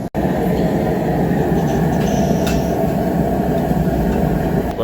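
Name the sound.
homemade blacksmith power hammer running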